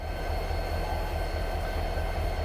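A train rolls along the track in Train Simulator 2020, a steady low rumble with continuous rail and wheel noise, heard close without talk.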